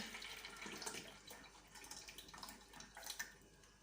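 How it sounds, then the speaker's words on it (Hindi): Tamarind and potato pulp water poured into a jug, a faint, steady trickle and splash close by, with small irregular gurgles and drips. "जो आलू इमली का पानी है, उसको एक जग में डाल देती हूँ"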